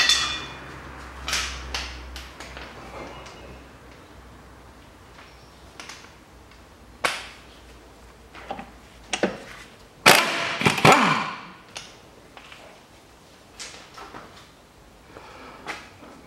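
An E18 bolt on a Peugeot 407 front suspension is worked loose, with scattered metallic clicks and ratchet-like clacks, a sharp rattling burst midway, and quieter taps between.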